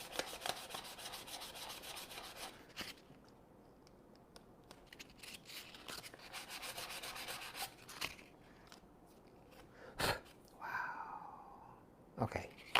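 A hard squeegee is rubbed over stainless steel architectural film laid on a hard surface, giving a steady close scraping swish broken by a few sharper knocks and scrapes, with faint murmuring in the background.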